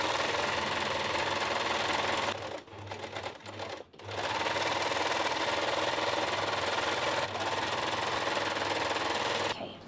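A sewing machine stitches the side seams of a stretch-fabric garment, running in a fast, steady mechanical whir close by, pausing briefly twice before resuming; no voices.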